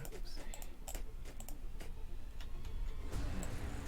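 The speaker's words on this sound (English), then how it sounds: "must probably be able to hear my mouse clicking away quite happily while I'm doing this" A computer mouse clicks in quick, irregular bursts during a Worlds FRVR building session, faint against a steady background hiss.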